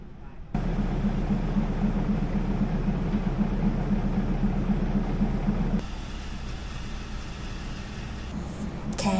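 Steady, loud rumble with a low hum from a train at Wongwian Yai railway station in Thailand, continuous throughout and dropping slightly in level partway through, with faint background voices.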